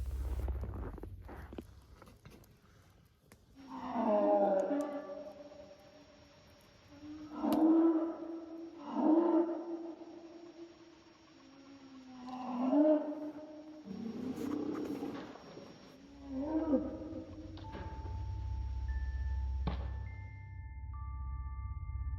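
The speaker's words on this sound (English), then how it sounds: "loud growls echo through the night." Several deep, drawn-out roaring growls in a quiet night setting, spaced apart and rising and falling, fairly distant and echoing.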